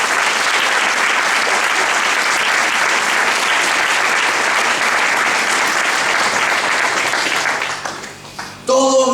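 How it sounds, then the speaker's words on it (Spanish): A church congregation gives loud, sustained applause with dense clapping that holds steady and then tapers off near the end. "Denle un fuerte aplauso al Señor."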